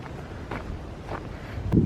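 Wind gusting outdoors during a late-November hike around Summit Field at Iroquois Park, a steady low rumble of buffeting against the microphone that swells louder near the end, with no talking.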